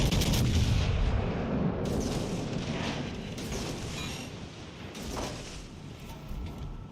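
Heavy battleship main guns fire in World of Warships Legends: a loud opening blast followed by rolling booms and further shots, layered into a continuous thunderous naval battle din.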